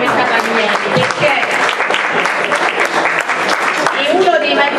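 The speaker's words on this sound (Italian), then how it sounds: "Io vi chiedo un applauso per Fiammetta Palmieri" Audience at an Italian book presentation breaks into steady, dense applause that holds evenly loud throughout, with voices mixed into the clapping.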